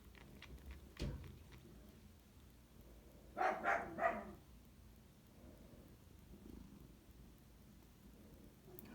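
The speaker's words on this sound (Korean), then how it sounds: "쌤이 짖는 소리 나지?" A distant dog barks three times in quick succession, faint against a quiet, steady background hiss.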